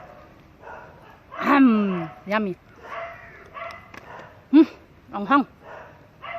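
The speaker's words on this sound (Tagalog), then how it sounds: "Daming aso guys." Dogs near a playground at Taman Midah in Kuala Lumpur let out several sharp barks and yips in scattered bursts over a few seconds, mixed with people talking close by.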